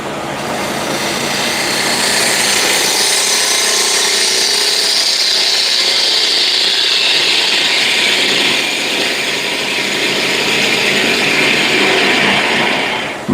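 A ball gouge cuts a wooden lid spinning on a lathe, giving a steady, loud, hissing scrape with a constant motor whine underneath. It runs continuously and close up, with no talk.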